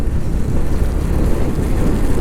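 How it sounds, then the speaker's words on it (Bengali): Heavy monsoon rain in a storm on the road from Ranchi to Kharagpur, Jharkhand, roars as a dense, loud wash of noise with wind buffeting the microphone throughout. "ঝড়ের গতিতে বৃষ্টি।"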